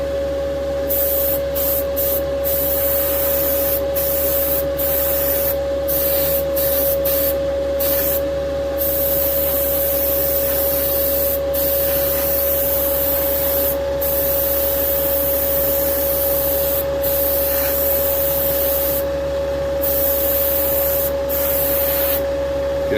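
Steady hiss of a spray can laying a light coat of paint on a 1969 Dodge Charger model, a continuous loud spray broken by short pauses between passes.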